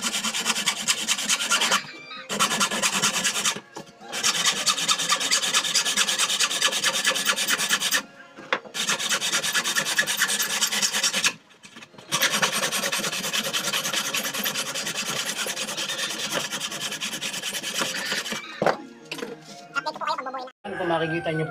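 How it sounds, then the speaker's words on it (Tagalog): A hand saw cuts aluminum framing for a cabinet door in a series of raspy back-and-forth strokes that run in long bursts broken by short pauses, close and fairly loud, with a voice speaking toward the end. "Paglagari po ito, kailangan dandahan lang."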